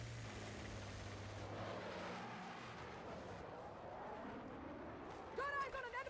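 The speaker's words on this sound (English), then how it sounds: "Got eyes on an enemy jet!" An enemy jet aircraft roars past in a video game, a faint, rising and falling engine whoosh that sweeps across the scene amid low background game noise.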